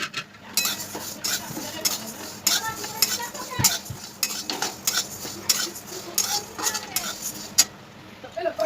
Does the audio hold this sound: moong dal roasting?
yes